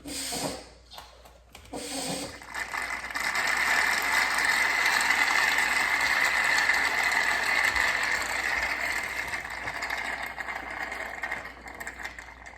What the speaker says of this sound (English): Let's give it a few more pumps here.